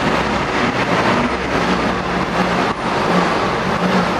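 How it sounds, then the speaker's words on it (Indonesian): A 2014 Ford Ranger XLS engine runs steadily with a broad, continuous rumble, close and fairly loud, with no talking. "Nih kita dengar suara mesinnya."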